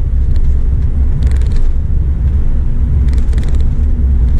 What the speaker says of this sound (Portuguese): vou acionar o freio motor